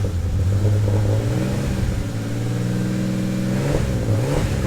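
A Ford Falcon AU with a turbocharged engine idles roughly on a cold start and is revved, its loud, close engine note rising and falling with a raspy, uneven drone.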